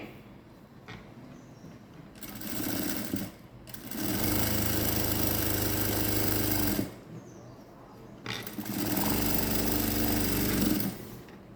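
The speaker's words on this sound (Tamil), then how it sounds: "மறுபடியும் பழையபடி உங்களுக்கு ஒரு தையல் போடுறேன்" A sewing machine stitches fabric in two long, loud mechanical runs, each a few seconds long and separated by quieter pauses, heard up close with no talking.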